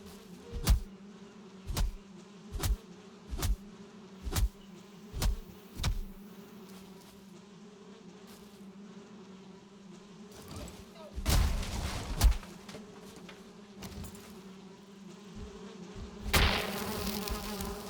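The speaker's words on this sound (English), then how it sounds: "The bees are poisonous." Steady buzzing of a swarm of poisonous bees in a video game, a continuous drone under a run of sharp thumps and bursts of gunfire-like noise.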